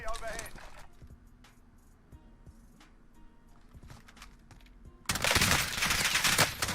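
Rapid bursts of AUG rifle fire in the shooter game Call of Duty Warzone, loud automatic volleys at the start and a dense, sustained burst near the end, with scattered fainter shots and game noise between under a speaking voice.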